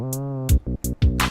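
A short FL Studio electronic beat whose sustained synth tone is chopped by a Gross Beat trance gate into rhythmic pulsing bursts, alternating with kick hits in a stuttering gated pattern.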